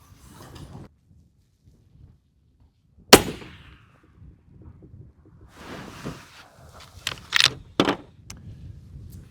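A single sharp rifle report from a 28 Nosler cartridge cracks out at long-range target shooting, loud and sudden with a short decaying tail, amid quiet outdoor background and a few faint later knocks.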